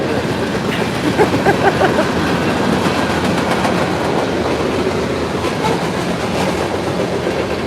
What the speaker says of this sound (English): They're moving some freight tonight.